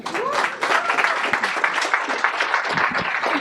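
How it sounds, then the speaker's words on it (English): Audience applause at a fundraiser sit-in and anthology launch, a steady wash of clapping from a crowd that holds at an even level throughout, with scattered cheering and faint voices mixed in. "Let's give a huge round of applause for Jackie Bragé, everyone."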